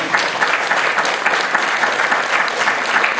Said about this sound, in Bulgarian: Тя много обича да я аплодира, докато се качва на сцената.